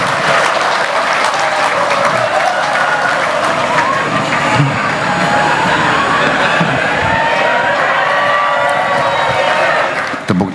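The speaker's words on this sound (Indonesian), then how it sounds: "Tepuk tangannya kok panjang banget" Prolonged applause from a large audience at a formal state ceremony fills the whole stretch, loud and sustained, with scattered cheers and voices mixed into the steady clapping.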